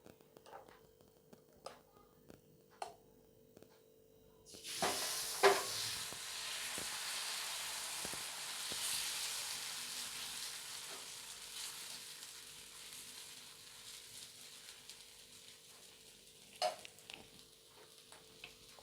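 Ada dosa batter hits a hot dosa pan and starts sizzling, a sudden hiss swelling after a quiet start with a few light taps, then a steady soft sizzle gradually fading.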